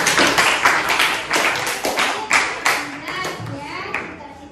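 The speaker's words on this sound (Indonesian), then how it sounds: "tepuk tangan dulu ya." Hands clap in a classroom, a run of sharp irregular claps mixed with faint children's voices, fairly close and lively.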